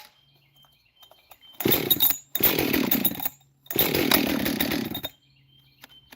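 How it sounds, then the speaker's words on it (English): Husqvarna chainsaw being pull-started: three separate loud bursts of rough engine roar, each lasting about a second, with short quiet gaps between them and faint background hum. "It is a Husqvarna, so it might take a couple more pulls."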